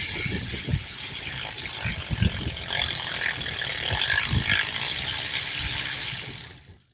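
A hand ratchet clicks in quick bursts of sharp pawl ticks, close and fairly loud, repeated several times during work on a big-block engine before trailing off into silence.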